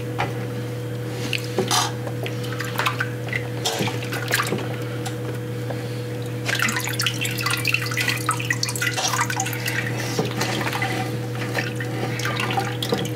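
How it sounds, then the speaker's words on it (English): Liquid drips and trickles steadily from a squeezed bag of steeped grain during an extract homebrew beer session, with soft squishing and splashing over a constant low hum, close by and without speech. "squeeze it against the side, get that initial juice off there"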